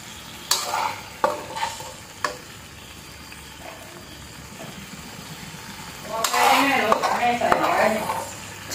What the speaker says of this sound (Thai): ผัดพริกแกงใส่ใบกะเพรานะคะ